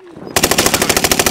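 Rapid machine gun fire in the Warzone video game, a sustained loud burst of evenly spaced shots starting abruptly after a brief quiet moment.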